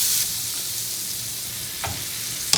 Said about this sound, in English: I'm gonna cook the potatoes in the skillet by themselves first